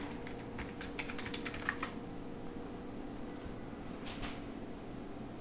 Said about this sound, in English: Start typing your Jenkins user ID